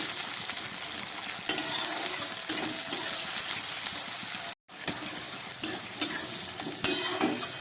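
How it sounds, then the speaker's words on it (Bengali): Tomato pieces and onion fry in oil in a pan, making a close, continuous sizzle with scraping stirs and clinks of a utensil. The sound drops out for a moment midway and then resumes. "এবার দিয়ে দিচ্ছি কয়েক টুকরো টমেটো।"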